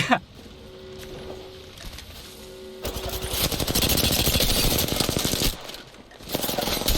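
Rapid automatic gunfire rattles in a chaotic Apex Legends firefight, loud and dense bursts under a voice and game sounds, with a brief gap before more shooting.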